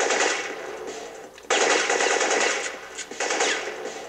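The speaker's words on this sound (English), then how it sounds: "some enemies were shooting at me" Sustained automatic gunfire from enemies in the video game Syphon Filter, loud rapid bursts that cut out briefly and resume twice.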